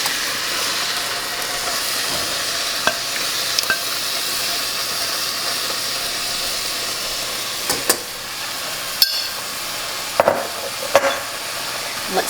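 Cooked peppers, onions and celery with tomato sauce are stirred in a pot, with a steady sizzling hiss and occasional sharp clinks of the spoon against the pan.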